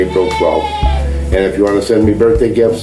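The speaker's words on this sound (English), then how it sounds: "that's my goat." A goat bleats in wavering, nasal calls close by while someone talks over it, the bleats rising and falling in a few short bursts.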